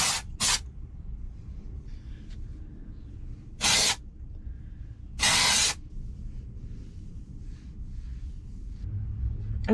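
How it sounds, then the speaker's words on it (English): Dry shampoo sprays into hair in three short aerosol bursts, the middle and last longer, each a sharp close hiss standing alone over a quiet low room rumble. "There is one thing though that I didn't share yesterday, and that is dry shampoo."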